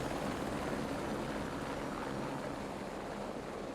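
A Canadian helicopter in the video game Squad, coming in hot for a hard landing, with a continuous dense rotor and engine roar that eases slightly toward the end.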